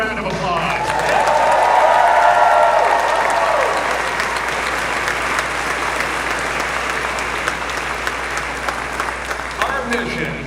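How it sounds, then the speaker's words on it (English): A large audience at the Artemis II crew announcement applauds loudly and continuously, with some cheering rising early on, then a long sustained wash of clapping that eases slightly toward the end. "Let's give them another round of applause."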